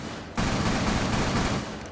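A sudden burst of automatic gunfire in Rainbow Six Siege, loud and close, rattling continuously for over a second before tapering off.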